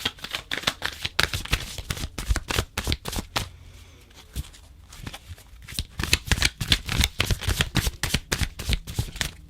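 Oracle cards being shuffled by hand in a quiet ASMR setting, giving rapid, close riffling flutters in steady bursts with a brief pause midway and no talking.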